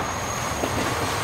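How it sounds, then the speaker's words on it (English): High-speed train in the Transport Fever 2 game labouring up a grade, a steady dense rolling rumble with a thin high whine running through it, constant and unbroken. "the tractive effort must be really bad on these high-speed trains"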